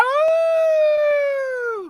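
A person imitates a wolf howl at an esports championship broadcast, one steady sustained tonal howl lasting nearly two seconds and dropping off sharply at the end, close and clear.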